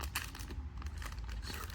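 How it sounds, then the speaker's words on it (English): Thin plastic bag crinkling as a compact Revopoint Metro Y Pro 3D scanner is unpacked, a steady rustle of handled plastic filling the moment with no talk. "Comes in a nice little plastic"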